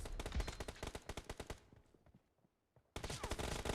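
Rapid automatic gunfire in a BGMI team deathmatch, a fast burst of sharp, punchy shots that stops, leaves a short quiet gap, then resumes just as loud.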